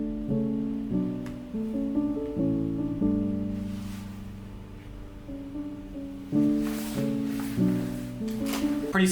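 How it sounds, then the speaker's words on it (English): Soft piano virtual instrument plays a slow chord progression, gentle sustained chords changing every second or so with soft, rounded attacks and a quiet, warm tone, heard alone. "This is the soft piano and it sounds like this."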